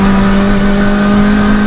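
A Mini Cooper S R53 track car drones steadily at close range as the driver lifts off the throttle, the engine tone holding a loud, even hum through the short stretch.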